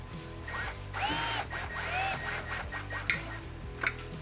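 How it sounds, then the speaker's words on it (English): A whirring power drill winds bicycle wheel spokes close by with rising and falling pitch, punctuated by metallic scraping and ticking of spokes. "I use a drill to wind them up."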